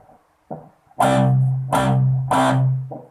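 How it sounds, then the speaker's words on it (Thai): Heavily distorted electric guitar power chords, a short choked stab followed by three sustained, ringing strikes and a final palm-muted chop, played alone. "แล้วก็ดีดแบบมิ้วเสียง ก็ ได้"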